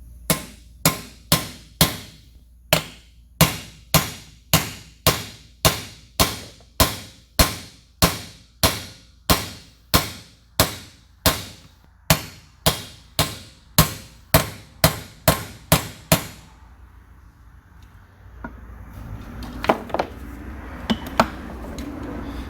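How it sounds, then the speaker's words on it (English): Hammer blows tap a part into an NV231/NP231 transfer case on a shaky workbench, about thirty sharp, evenly spaced metallic strikes that ring out loud and close, then stop, leaving faint clinks and rustling handling sounds. "just tap it in"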